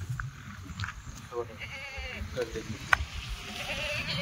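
Goats bleat faintly at a livestock sale, a few wavering calls under steady background noise and nearby voices.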